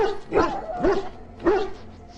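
A dog in the Dragon Age: Origins video game gives three close, loud barks spaced about half a second apart, with whimpery tails on each one.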